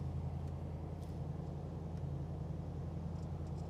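A 1953 Buick Skylark pulling away in drive, its engine a faint, smooth low rumble with steady road noise and no talking.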